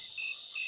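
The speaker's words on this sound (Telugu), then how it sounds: "ఒక రకం పురుగులు శబ్దం చేయడం ఆపేస్తే ఇంకొక రకం మొదలు పెడతాయి" Insects chirp in a forest at night: a steady, high, shimmering trill of crickets, continuous and moderately close over a brief moment, with no voices.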